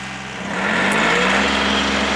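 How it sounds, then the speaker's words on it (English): A backhoe engine drones steadily nearby, heard by someone riding along in its bucket seat, and grows slightly louder after the first half-second. No one speaks. "I'm riding in the bucket seat. I got the backhoe view."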